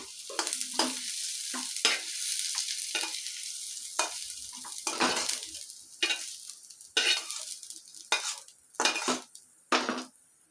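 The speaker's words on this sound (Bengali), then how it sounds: "এবার আমি চিংড়ি মাছটা ভেজে নেব" Shrimp coated in salt and turmeric frying in a pan while stirred gently, bursts of crackling sizzle alternating with metal spatula scrapes and clinks against the pan, uneven and close, without speech.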